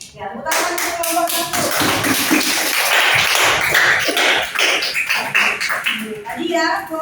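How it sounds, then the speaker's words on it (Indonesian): A classroom full of students applauds group 1, a dense burst of many hands clapping that fills several seconds before thinning out, with a voice briefly speaking over it. "Ya, tepuk tangan untuk kelompok"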